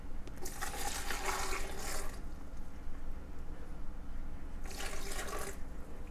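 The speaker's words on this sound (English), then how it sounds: "And then you're going to throw some water in." Water is poured into a cooking pot or blender during home cooking, heard as two rushing, splashing bursts separated by a quieter pause, up close with no talking.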